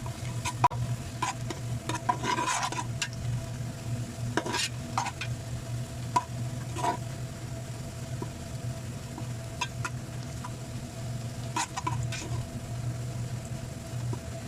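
Onions frying in a pot as they start to brown, with repeated scraping stirs over a continuous low sizzle; close, steady, no talking.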